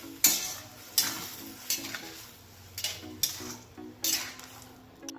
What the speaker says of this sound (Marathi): आणि व्यवस्थित मिक्स करायचा आहे।